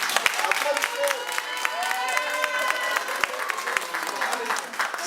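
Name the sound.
audience applause for a singer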